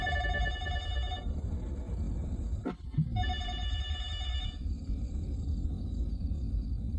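Telephone bell rings loudly and close in two bursts of steady trilling, broken by a brief sweep, over a dense low rumble of background noise.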